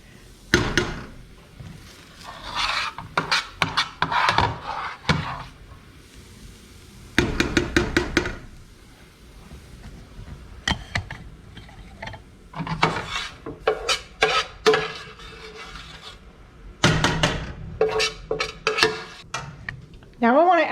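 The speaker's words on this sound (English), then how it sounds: "I'm gonna use my big sauce spoon and I'm just gonna start pulling it out of the frying pan and putting it into my saucepan" A big sauce spoon scrapes tomato sauce out of a frying pan into a saucepan, giving repeated bursts of rasping, rubbing metal-on-pan strokes with short pauses between them, close and fairly loud.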